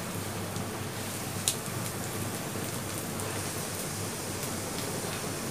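Onions fry in a pan for a fish fry dish, giving a steady, fairly quiet sizzle and crackle throughout with one brief louder pop near the start.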